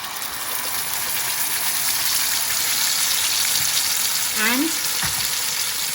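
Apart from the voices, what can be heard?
curry paste sizzling in hot oil with whole spices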